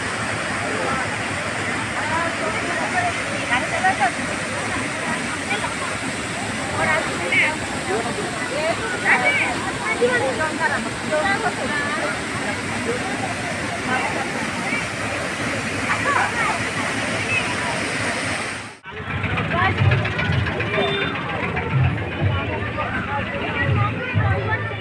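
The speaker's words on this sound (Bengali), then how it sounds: "এটি হচ্ছে গুন্ডিচাঘাগি ওয়াটারফলসের মুখ্য ধারা" Main stream of Gundichaghagi Waterfall in Keonjhar, a loud, continuous roar of falling water, close and unbroken, with a brief dip before the rush resumes and faint crowd chatter in the background.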